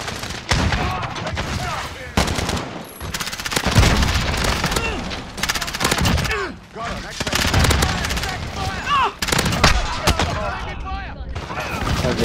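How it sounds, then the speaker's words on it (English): Video game gunfire, including shotgun blasts, crackles in dense bursts throughout, with players talking over the shooting. "Stop shooting at me, Deco, you freaking meanie head."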